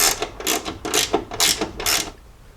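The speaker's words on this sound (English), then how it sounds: "So I'm just going to take off this screw. It's going to be an 8mm." A ratchet wrench loosening an 8mm screw on a Jeep while LED light pods are being fitted, heard up close as a rhythmic run of about five clicking bursts before it stops.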